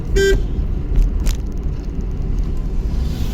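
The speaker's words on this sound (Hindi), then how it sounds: "हॉर्न मार इसको।" A short, loud car horn toot near the start, heard over the steady low rumble of a running vehicle.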